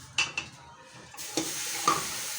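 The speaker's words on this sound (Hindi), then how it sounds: "तो सबसे पहले जो है गोश्त को डालेंगे।" Bone-in mutton dropped into a hot pot for haleem, with a short sizzle and a few clanks of a spoon against the pot, close by and fairly quiet.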